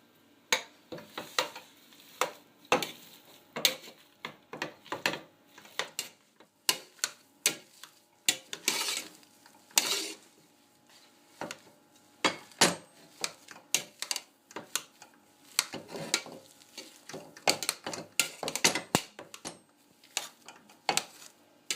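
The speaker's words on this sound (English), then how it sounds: "Just going to mash them up with a masher." Drained boiled potatoes are mashed with a masher in a pot, a close run of uneven, repeated soft thuds and clacks with brief pauses between strokes.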